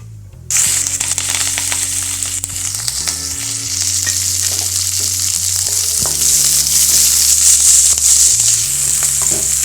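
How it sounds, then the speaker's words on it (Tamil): Mustard seeds, onion, green chilli and curry leaves frying in oil for an okra stir-fry make a loud, close, continuous crackling sizzle that starts abruptly and holds steady, with no speech and a low hum underneath. "ஆயில் ஊற்றி கடுகு தாளித்து வெங்காயம் பச்சை மிளகாய் கருவேப்பிலை போட்டிருக்கோம்"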